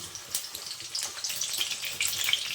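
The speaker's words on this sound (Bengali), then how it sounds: "তেলটা গরম হয়ে গেছে, এখন আমি আলুগুলো ভেজে নেব।" Steady crackling sizzle of potatoes frying in hot oil, with bright spattering pops throughout and no voices.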